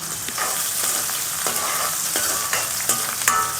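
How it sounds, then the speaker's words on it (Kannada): Finely chopped onions frying in hot oil in a pan, a steady close sizzle broken by regular scraping and clinking stirs about every half second, no talking. "ಚೆನ್ನಾಗಿ ಈರುಳ್ಳಿನ ಫ್ರೈ ಮಾಡ್ಕೋಬೇಕು"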